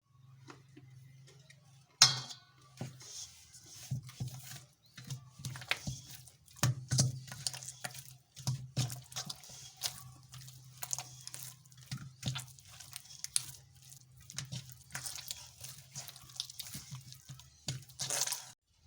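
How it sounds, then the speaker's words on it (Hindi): Puri dough kneaded by hand with oil in a kitchen gives soft, irregular squishes and sticky slaps, close and quiet, repeating in an uneven rhythm over a low background hum. "आटे को हमने अच्छी तरह पानी के साथ गूंद लिया है। अब हम इसे तेल के साथ थोड़ा सा गूंद लेंगे।"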